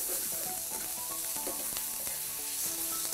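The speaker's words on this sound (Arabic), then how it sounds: "أنا حبيت إني أول شيء أكرمل البصلات وتأخذ اللون اللي أنا بدي إياه" Onions sizzle and fry steadily in a hot pan while being caramelized, a continuous close crackling hiss with occasional stirring clicks and no voices.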